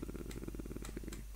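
Cats purring in Minecraft, a soft rapid rumbling purr that is faint and continuous, heard alone.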